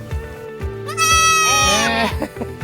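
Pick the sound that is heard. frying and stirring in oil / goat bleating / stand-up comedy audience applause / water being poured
goat bleating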